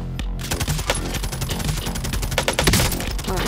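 Rapid automatic gunfire from the video game Call of Duty Warzone, a dense, loud fusillade of overlapping shots and bursts running continuously throughout, with no talk over it.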